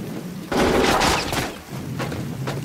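A burst of rapid gunfire erupts in a video game after a brief quiet, several cracking shots in quick succession, followed by a few scattered, more distant bangs.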